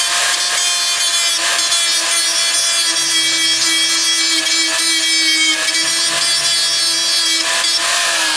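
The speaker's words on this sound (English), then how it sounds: "I have the compressor off because I'm running the welder." A welder runs steadily in a garage during brake line work on a 2006 Chevy Silverado, giving a continuous loud crackling buzz with a steady hum and no pauses, with no voices.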